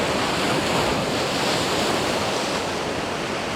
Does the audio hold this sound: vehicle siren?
no